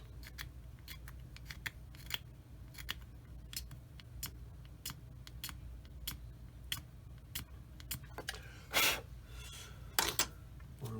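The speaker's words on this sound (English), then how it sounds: "I'm going to scrape this flat." A blade scrapes a part of a Dragon 1/35 Elefant plastic model kit flat in a long run of quick, quiet, close ticking strokes, ending with a few louder rasping passes.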